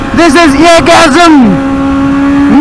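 A Kawasaki Z800 motorcycle on a highway gives a loud, close exhaust note that rises and falls through quick revs, then settles into a steady droning pitch.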